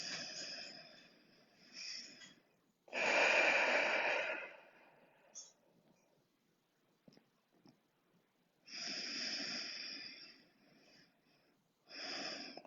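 Slow, deep breathing during a stretching exercise, heard as a few long airy inhales and exhales close to the microphone, separated by quiet pauses.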